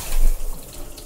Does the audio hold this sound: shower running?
yes